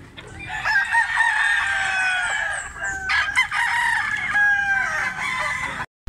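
A pumpkin sweater gamefowl rooster, a street-comb bird from Barili, Cebu, crows in long, loud, close calls, with a short pause midway and a break near the end.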